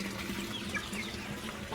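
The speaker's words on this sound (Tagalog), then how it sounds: "ito pong tubig na ito nanggagaling po doon sa aquaponics natin sa labas" Water circulating through an outdoor aquaponics system on a farm with catfish and watermelon plants, a steady, continuous trickling flow heard close by without pause.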